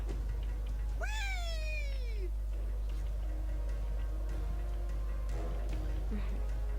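A cat meows once, a long rising-then-falling cry, in the Lego City Undercover video game over a constant low hum, followed later by faint game sounds.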